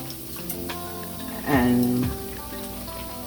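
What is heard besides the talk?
green plantains (tostones) frying in oil, second fry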